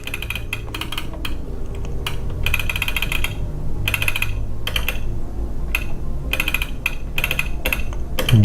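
Typing on a computer keyboard to enter a short label into Smart Control lighting software, heard as bursts of close, crisp key clicks separated by brief pauses over a low background hum.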